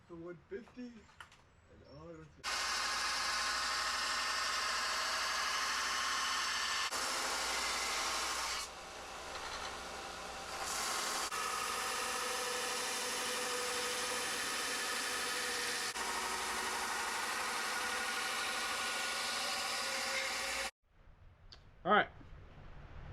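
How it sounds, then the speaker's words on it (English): Belt sander grinding a hand-forged 51-layer Damascus steel knife, a continuous loud abrasive rasp lasting about eighteen seconds with a brief change in tone partway, bracketed by a few quiet words before and after. "Now it is time to put a new belt on the belt sander and start sanding."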